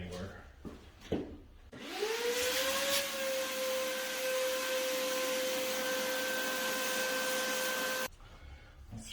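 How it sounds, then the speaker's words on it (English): A vacuum cleaner sucks up dirt while a Kawasaki Ninja ZX-10R motorcycle is taken apart, with a steady, close whine that runs for about six seconds between a few brief knocks and clatters. "let me see if I can vacuum up this mess here so we don't get any dirt anywhere"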